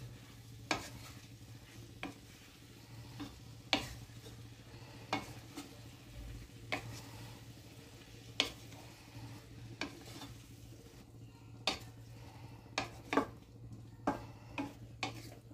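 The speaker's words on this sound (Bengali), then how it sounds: "সজনে ফুল ও সমস্ত সবজি দিয়ে যে ভেজে রেখেছিলাম দিয়ে দিলাম। এবার মশলার সাথে ভালোভাবে মিশিয়ে দিচ্ছি।" Fried drumstick flowers and mixed vegetables being stirred into spices in a pan, a steady low sizzle under irregular sharp spoon scrapes and taps against the metal, fairly quiet and close.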